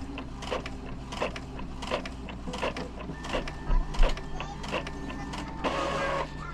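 An Epson L3210 inkjet printer runs a head cleaning cycle, with steady mechanical whirring, intermittent clicks and carriage movement close by, and a louder grinding stretch toward the end.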